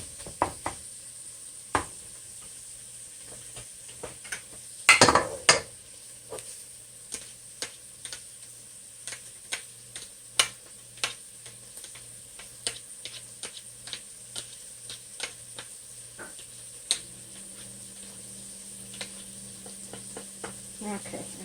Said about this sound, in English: And just cook the onion until it's translucent, kind of soft.